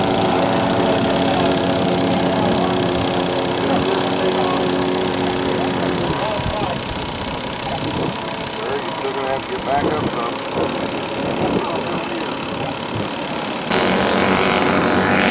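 Scale model aircraft engine in flight at an aircraft show, a continuous loud droning buzz with shifting pitch as the plane passes, with a person talking over it.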